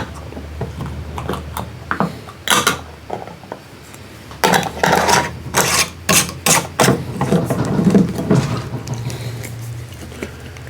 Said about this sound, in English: And like the others, we'll put a lid on it.